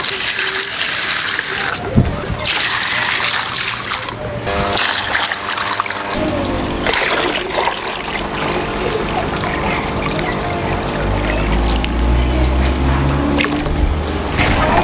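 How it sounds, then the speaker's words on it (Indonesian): About 20 liters of tap water pours into a hydroponic starter-kit reservoir tank, a steady splashing trickle running continuously for about fifteen seconds with faint background sounds. "saya dah masukkan 20 liter air dalam ni"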